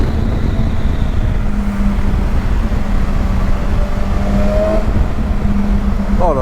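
A 2019 BMW S1000 XR HP motorcycle engine with a catalytic converter, loud and close, running a steady rumbling idle-to-rev drone throughout with a slight rise in pitch toward the end.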